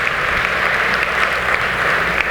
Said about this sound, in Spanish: Dele ese aplauso bien fuerte al Rey de la Gloria.